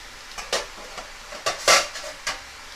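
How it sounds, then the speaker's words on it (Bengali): A metal lid lifted off a pot of spinach curry brings a few sharp clanks and scrapes of metal on metal, close and distinct, spaced irregularly over a faint background with no talking. "এবার ঢাকাটা আমি খুলে নেব।"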